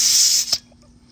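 Air hisses loudly from a car tire valve as the hose of a LASFIT TK1 portable inflator is attached on a 2018 Mazda, a close, steady burst that cuts off sharply after about half a second.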